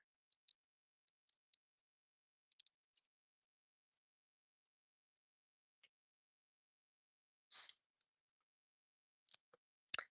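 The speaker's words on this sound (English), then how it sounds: "I need to get my smaller scissors out, but these are fabric scissors" Small fabric scissors cutting paper and vellum while making cat art cards, faint crisp snips in scattered clusters with a longer slicing stroke near the end, close and quiet with no talk.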